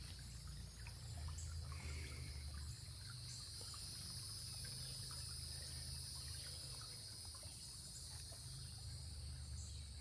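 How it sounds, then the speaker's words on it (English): Faint water trickles continuously in a quiet outdoor spot at wooded witch grounds, with a steady high insect or cricket drone above it and no voices. "I could stay there all day and listen to that water."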